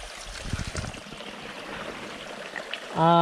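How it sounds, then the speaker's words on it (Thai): Steady broadband wash of flowing water from a forest stream running nearby, with a brief louder tonal burst near the end. "ตอนนี้ผมเดินมาเจอกับลำธารนะครับ"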